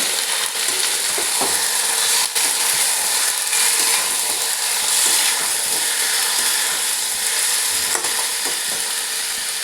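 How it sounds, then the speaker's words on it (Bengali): Pieces of meat frying in a hot pan while being stirred, a loud, steady hiss and sizzle with occasional scraping clinks from the spoon, close and without speech. "মাংসটাও ভালো করে একবার নাড়িয়ে নিচ্ছি।"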